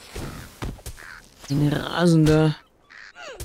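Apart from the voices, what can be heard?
raven cawing in Lord of the Rings Online video game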